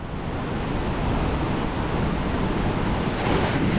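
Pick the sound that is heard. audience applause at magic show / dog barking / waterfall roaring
waterfall roaring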